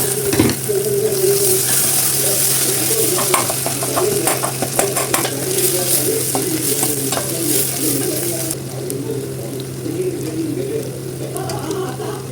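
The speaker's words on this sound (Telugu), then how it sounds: "ఇంకా టమాటా కూడా కొంచెం మెత్తగా అయ్యేంత వరకు కూడా మనం ఫ్రై చేసుకోవాలి" Tomatoes frying in a pan for a curry, a steady close sizzle with occasional stirring scrapes and utensil clinks throughout, no voices.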